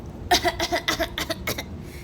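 A short burst of rough throat clearing, several quick raspy pulses in a row, close by and fairly loud.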